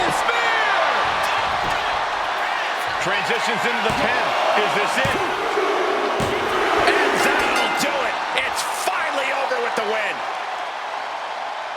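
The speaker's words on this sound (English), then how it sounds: "Listen to this crowd" A wrestling arena crowd in the WWE 2K25 video game roars and cheers continuously, dense and loud, with claps and thuds mixed in and a commentator talking over it.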